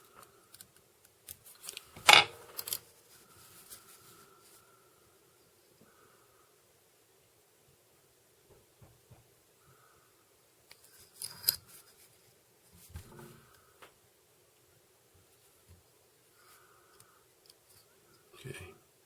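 Scissors snip thread while a Little Black Caddis trout dry fly is tied, giving a few faint, sharp cuts set apart by long quiet stretches in a calm room.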